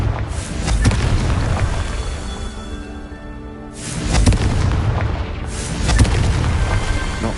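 Booming fiery blasts from the Confringo spell in Hogwarts Legacy, three loud explosive bursts each rolling into a dense, rumbling roar.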